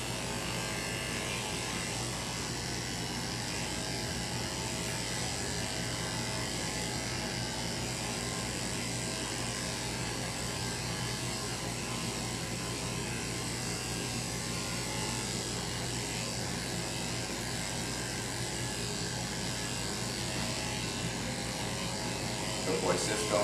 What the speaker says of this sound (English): you just keep repeating this process until the clipper no longer takes off any hair